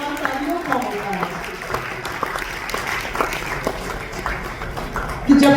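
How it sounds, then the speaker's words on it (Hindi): An audience at an annual award function in Rohtak applauds in a sustained, dense wash of clapping, with a voice speaking over it. "तालियों में कंजूसी न करें, क्योंकि सबसे बड़ा सम्मान तालियों का होता है।"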